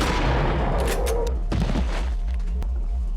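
Shotgun blasts in the video game Eternal Darkness: a loud burst of gunfire followed by a second sharp shot and a decaying echo over a low rumbling game ambience.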